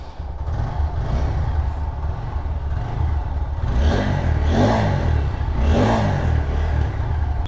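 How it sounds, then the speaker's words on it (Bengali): A Suzuki Gixxer double-disc motorcycle engine idles steadily nearby, then revs up in a few rising bursts, loud and alone with no talk. "তবুও আমি আপনাদেরকে এই বাইকের সাউন্ডটা একটু শুনিয়ে দিচ্ছি"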